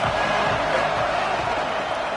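A stadium crowd at a football game roars in a dense, continuous wash of noise, loud and steady throughout with no break.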